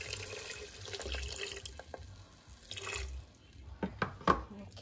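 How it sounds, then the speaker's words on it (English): Water pours into a cooking pot for oatmeal, an uneven trickle and splash at moderate volume with a few brighter drips and clinks toward the end. "I'm going to add water. So I'm using just half a 1 cup of water, just enough to cook."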